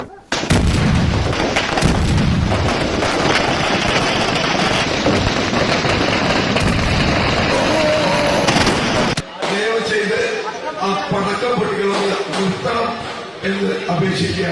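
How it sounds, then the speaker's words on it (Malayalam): Firecrackers burst at an election campaign event in a loud, dense, continuous barrage of cracks and bangs for about nine seconds, then cut off, leaving people talking. "ദയവ് ചെയ്ത് പടക്കം പൊട്ടിക്കുന്നത് നിർത്തണം എന്ന് സംഘാടകർക്ക് ആവർത്തിച്ച് അഭ്യർത്ഥിക്കേണ്ടി വന്നു"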